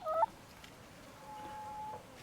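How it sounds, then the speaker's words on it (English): A chicken gives a short clucking call at the very start, near and fairly clear, in a garden with winged beans, followed by quiet outdoor background and a faint later call. "And here's all the chickens."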